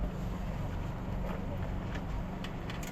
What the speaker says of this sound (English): It's getting a little breezy, which is a little concerning